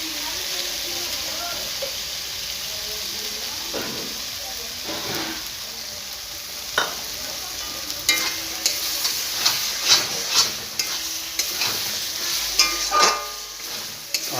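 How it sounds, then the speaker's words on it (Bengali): Ginger paste and garlic fry in a pan for a country chicken dish, a steady soft sizzle broken by repeated scraping stirs that grow more frequent and pronounced in the second half, close up, with occasional talk. "আদাটা দেওয়ার পর একটু নেড়ে নেবেন।"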